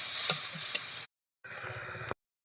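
Crab curry sizzles in a kadai (wok) as it is stirred, giving two short bursts of hissing frying noise with faint scraping ticks, broken by a brief silent gap.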